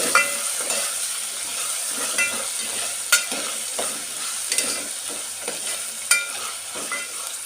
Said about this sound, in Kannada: ಎರಡು ಈರುಳ್ಳಿ ಒಂದು ನಾಲ್ಕು ಹಸಿ ಮೆಣಸಿನ್ಕಾಯಿ ಹಾಕ್ಕೊಂಡು ಚೆನ್ನಾಗಿ ಫ್ರೈ ಮಾಡ್ಕೋಬೇಕು